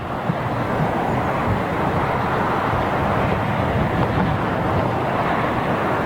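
An airliner taxiing out from Terminal 4 at London Heathrow Airport during Storm Brendan, a loud steady engine roar blended with buffeting wind across the microphone, continuous and unbroken, with no talk.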